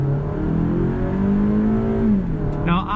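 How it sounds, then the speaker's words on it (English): A 2019 Toyota RAV4 Adventure with all-wheel drive accelerates hard from inside the cabin, its engine drone climbing steadily in pitch before easing off, loud and close. "give you a taste of acceleration with the all-wheel drive"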